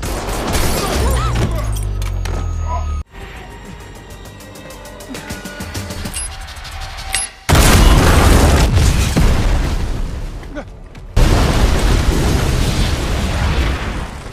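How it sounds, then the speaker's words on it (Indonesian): A film explosion destroys an entire building: a sudden, heavy blast erupts after a stretch of tense scoring, followed by a second loud roaring burst and rumbling debris that fills the scene. "Ledakan itu menghancurkan seluruh gedung"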